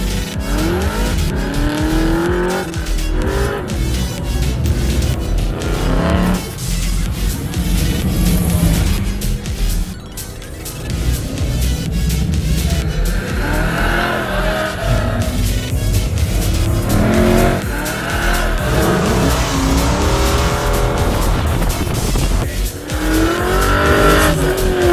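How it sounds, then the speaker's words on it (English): Muscle cars race hard around an autocross track at the Hot Rod Power Tour West, with loud continuous engine roar, revving and repeated tire squeals and skids, close and without talk. "Here at the Autocross track, I mean, these guys are absolutely nuts and they're getting after it"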